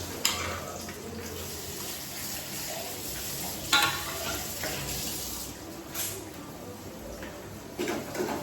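Red onion and curry leaves fry in a pan with a steady close crackle and hiss, broken by a few louder spits and stirring clatters, while a voice talks softly over the cooking.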